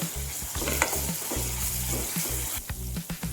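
Ginger-garlic paste sizzles in a hot pan for chicken gravy while a spoon stirs and scrapes against the metal at intervals, close and fairly loud.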